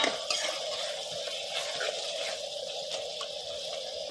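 Coriander is stirred into gongura curry frying in oil, giving a steady close sizzle with faint scraping and stirring clicks.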